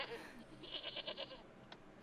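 A goat bleats several times in quick succession, a short wavering cry standing out over a faint background, with a brief extra call just after.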